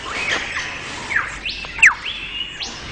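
Male lyrebird song, a run of varied chirps, sweeping whistles and sharp squawks delivered in quick succession, fairly close and clear against a quiet background.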